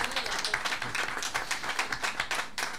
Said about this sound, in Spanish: Sí, vale la pena un aplauso.